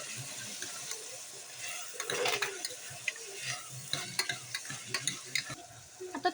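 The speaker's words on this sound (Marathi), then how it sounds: "आता मी यात टोमॅटो टाकला मस्त मिक्स करून घेणार आहे।" Fried onion and freshly added tomato are stirred in a pan, a soft sizzle under repeated close scraping and tapping strokes of a spoon that grow more frequent toward the end, with no voices.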